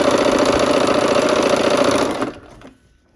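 A domestic sewing machine runs continuously at a fast, even stitching rhythm while sewing quilt blocks, loud and close, then slows and stops near the end.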